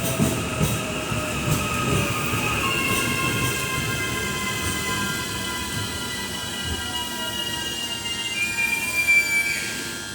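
Electric train AM 524 on the Papakura to Britomart service in Auckland, New Zealand, passing with a sustained rumble and long, overlapping high-pitched wheel squeals. It stays fairly close and steady, with no talking.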